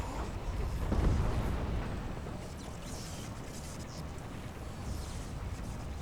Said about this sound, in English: There was a small explosion there.